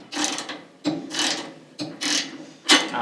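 Ratchet with a 9/16 socket tightening bolts on a Weil-McLain SlimFit boiler during assembly, four close rasping clicking strokes with short pauses between them, no talk.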